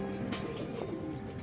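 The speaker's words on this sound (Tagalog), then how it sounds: "Pero yung may tama din na natin pinalipad mga kalapatids." Racing pigeons, some of them injured, cooing in low soft calls at close range with faint rustling behind them, and no talking.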